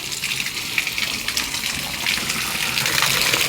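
Water gushes hard from two motor-fed pipes, pouring for washing in a loud, continuous splashing rush that swells slightly stronger toward the end, with no voices over it.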